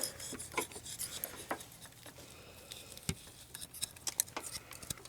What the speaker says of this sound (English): Okay, then we're going to scrape off the old gasket.